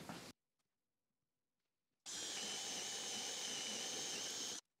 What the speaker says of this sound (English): I'm going to use my Forstner bit to create some holes